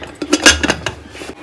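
Metal pots and utensils clatter and clink in a home kitchen while a meat gravy is prepared with a pressure cooker, producing a quick burst of close, bright knocks and scrapes.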